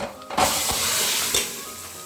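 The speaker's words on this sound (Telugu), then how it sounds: "వెంగు వేసుకున్న తర్వాత కాసేపు ఫ్రై అవ్వాలండి" A tempering of asafoetida frying in a pan for mango dal, a sudden burst of loud crackling sizzle that settles into a steady hiss, with a stir scrape partway through.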